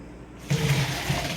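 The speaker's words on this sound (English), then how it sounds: "run a little cold water over them, same as I did to my shrimp" Cold tap water starts running over strained pasta noodles, a steady rushing splash that begins abruptly partway in and continues close and fairly loud.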